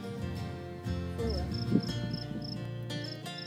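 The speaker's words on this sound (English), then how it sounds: "I don't know if you can hear that sound on this video, but it was a cricket." A backyard cricket chirps in a steady run of short, evenly spaced high chirps, moderately faint over a dense outdoor background.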